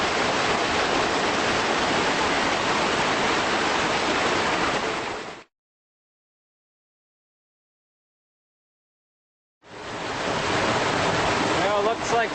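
A small waterfall at Crater Lake National Park rushes in a steady, broadband roar, loud and close, cutting out completely for several seconds in the middle before returning.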